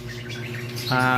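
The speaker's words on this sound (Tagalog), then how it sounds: "Ito yung dalawang ibon na hinarvest natin kanina." Bird calls with a steady tonal, harmonic quality, growing louder toward the end of this short stretch, close by.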